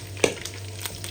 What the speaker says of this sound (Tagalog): Oh, matalsik yung mantika.